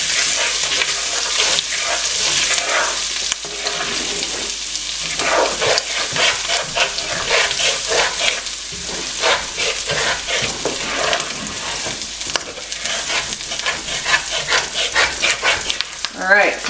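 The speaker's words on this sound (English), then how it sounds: "Oh, I love the smell of garlic cooking." Garlic fries in browned butter in a pan, with a loud, continuous sizzle and crackle and intermittent scraping as the pan is stirred.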